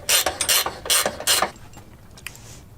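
Ratcheting tool clicks in quick bursts while loosening a control arm bolt on an Alfa Romeo Stelvio suspension, close and loud for about a second and a half, then fading to faint handling noise.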